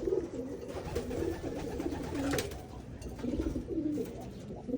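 Pigeons coo softly and repeatedly during recall training, fed peanuts, a low throaty murmur running steadily through the whole stretch with faint outdoor bustle.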